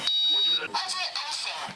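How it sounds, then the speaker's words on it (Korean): A smoke detector shrills a high steady tone during a house fire test, its piercing beep briefly audible at the start before a news narrator speaks over the rest. "13초, 연기 감지기가 작동하고"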